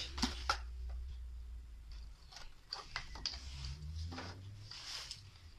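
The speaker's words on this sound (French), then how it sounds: "vous prenez votre paire de ciseaux" Scissors snip through cardboard in a few separate, close crunching cuts with short pauses between them, quiet and without voices.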